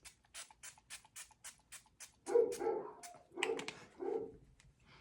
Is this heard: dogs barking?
yes